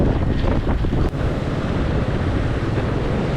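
A fast river of glacial water rushing down from K2 through the Hushe valley in northern Pakistan: a continuous, loud, broad roar mixed with gusting wind buffeting the microphone, and no talking.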